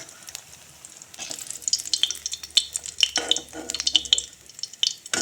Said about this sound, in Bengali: মুচমুচে করে বড়া ভেজে নিয়েছি